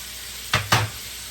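Shrimp seasoned with salt and pepper sizzles as it lands in a hot pan: two short, close, bright hissing bursts over a low steady hum, with quiet between them.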